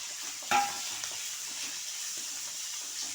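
Suji upma ingredients fry in a pan with a soft, steady sizzle and a brief stir or clink near the start, close up and fairly quiet, with no voice.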